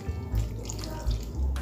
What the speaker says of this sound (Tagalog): Tapos lagyan ko siya ng tubig.